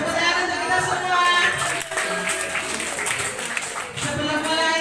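A group claps together at a school session, producing a moderately loud burst of applause that briefly dips and then resumes, with voices mixed in.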